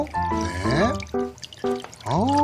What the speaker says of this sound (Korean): 여기다 받쳐서 물기를 좀 떼내고